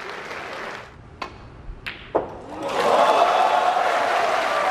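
A snooker crowd applauds a Ronnie O'Sullivan century break of 124. A few sharp clicks and knocks come first, then the applause swells and holds as a dense, steady roar of clapping.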